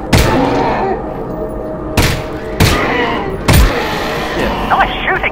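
Gunshots ring out in the virtual reality game Half-Life: Alyx, with a few loud, sharp blasts at irregular intervals followed by decaying rumble, over game ambience and faint voices.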